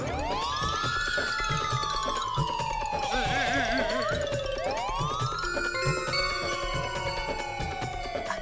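An ambulance siren wails near a residential housing society, its loud, repeating rising and falling sweeps filling the scene, with faint voices underneath.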